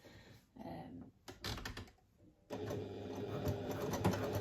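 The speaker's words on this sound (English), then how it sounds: "I'm just going to baste with a 1/2 centimetre or 3/16 inch seam allowance" A sewing machine bastes fabric layers of a pouch together with a 1/2 centimetre seam allowance, running in short bursts with pauses, then a steady stretch of stitching close by.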